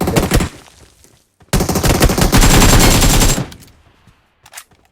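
A short burst of automatic gunfire in the mobile shooter PUBG Mobile, then a longer sustained volley of rapid shots, loud and close, ending with a couple of faint distant shots.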